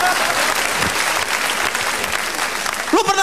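Audience applause at a televised stand-up comedy show, a dense, steady clatter of clapping filling the room throughout, with a voice briefly rising near the end.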